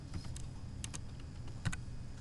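Quick, light keystrokes tap on a computer keyboard, a handful of clicks in short irregular bursts at close range, each one crisp and alone over a faint background hiss.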